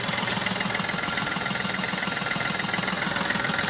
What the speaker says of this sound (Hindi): इंजन जो इंजन का साउंड है वो कैसा है